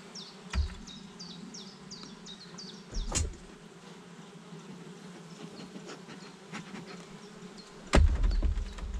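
Honeybees at a hive during smoking, with a steady, soft buzzing throughout and a few sharper thumps or knocks from handling the hive.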